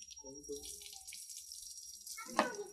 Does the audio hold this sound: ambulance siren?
no